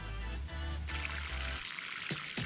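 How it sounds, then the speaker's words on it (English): Water splashes and pours steadily onto plants, a continuous hissing spray with a few brief knocks and shifts partway through. "I might as well water the garden while I'm doing it"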